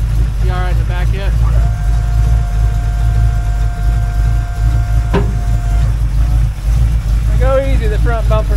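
Chevrolet El Camino engine idling steadily as the pickup backs up, a constant low rumble running throughout with people talking over it near the start and end.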